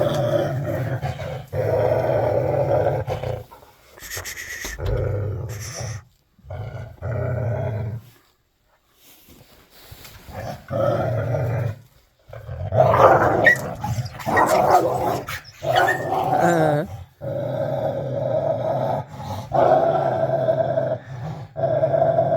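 Kangal dogs growl and snarl fiercely for a long stretch, with rough bursts of fighting noise rising and falling, close and loud.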